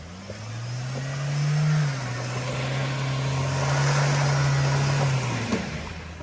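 A Thar's engine revs hard and steadily while the vehicle is stuck in deep mud and water, holding a loud, strained drone with a brief surge near the start and a slight drop near the end, with no talking.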